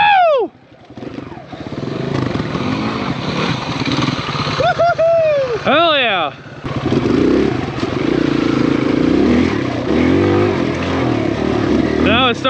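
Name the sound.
lightest 4-stroke full sized wheel dirt bike riding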